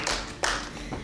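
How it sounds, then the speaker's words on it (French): Brief bursts of hand clapping from an improv theatre audience, two or three short rounds close together, fairly loud and without voices. "Oh oui, on l'applaudit."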